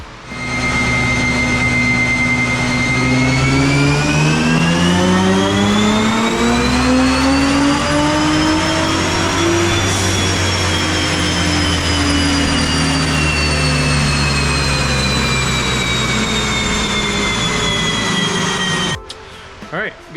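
A bolt-on Nissan GT-R R35 is strapped to a dyno. Its engine climbs steadily in a long, loud wide-open pull, peaks, then winds down gradually before cutting off abruptly at the end.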